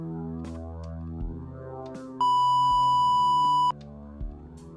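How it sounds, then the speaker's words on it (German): In the video game Please, Don't Touch Anything 3D, a Morse code beep sounds: a single clean, steady electronic tone holds for about a second and a half over quiet background music. "Moment, das ist Morsecode."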